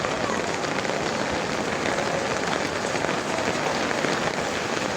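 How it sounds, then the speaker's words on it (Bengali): Dense, steady patter of rain falling on a surface, close and continuous with no pauses. "যেহেতু আজকে বৃষ্টি হচ্ছে"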